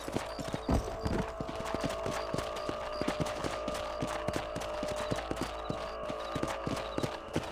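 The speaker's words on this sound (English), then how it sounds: "Let's get back on the horses and see what else is going on." Horses' hooves clip-clopping at a steady walking rhythm in the Red Dead Redemption video game, close and continuous with faint background ambience, no talk.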